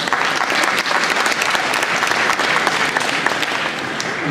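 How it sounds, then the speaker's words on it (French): An audience at the Utopiales 2011 prize ceremony claps steadily for the winners, a dense, even wash of applause filling the room for several seconds. "On vous applaudit."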